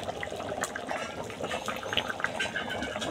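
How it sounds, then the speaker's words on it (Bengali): Chicken curry gravy made with broiler chicken bubbles at a steady boil in a pot, a dense, continuous wet simmering hiss with small popping bursts, close and fairly loud, with no talking over it. "এখন ঝোলটা ফুটতিছে"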